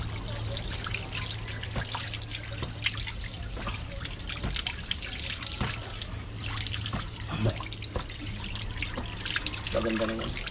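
Water trickles and splashes steadily from a tap while dishes are washed at a sink, with occasional clinks of plates and a constant low hum behind it.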